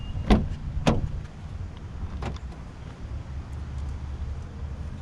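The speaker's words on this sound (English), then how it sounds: "You press it again to lock all the doors for the 3rd time." Power door locks on a Nissan Sentra clunk shut, two sharp near clicks close together followed by a softer third thump, over quiet cabin ambience.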